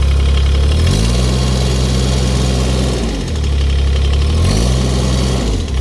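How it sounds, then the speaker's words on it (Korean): A loud, close diesel engine of a 2021 Kubota 1.7-ton mini excavator rumbles steadily, rising in pitch twice as it is revved up, then easing back down between the revs. "출력했을 때 엔진음도 참 부드럽고 좋네요."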